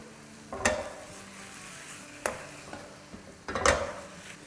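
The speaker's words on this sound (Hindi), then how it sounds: "दूध को भी हिलाते जाएंगे और साथ साथ हलवे को भी भूनते जाएंगे।" Carrot halwa being roasted in a pan with milk: a soft, steady sizzle with three sharp scraping clatters of a spoon against the pan, spaced a second or more apart.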